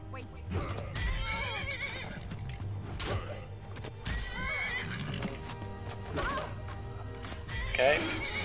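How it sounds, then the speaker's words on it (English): Horses in Skyrim neigh and whinny several times, with clip-clop hooves and occasional thuds of combat, under a player's excited talk throughout. "Don't touch my freaking horse."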